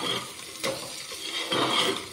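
Diced potatoes with cabbage are stirred and fried in a pan, with two soft scraping strokes of a spoon over a faint, steady sizzle, close by and with no voice.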